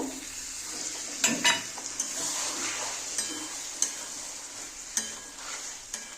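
A pan of okra with potatoes in mustard sauce sizzles softly and steadily, with a spoon scraping and clinking against the pan in several short strokes.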